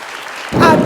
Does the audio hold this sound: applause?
yes